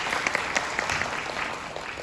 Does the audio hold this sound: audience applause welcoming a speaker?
yes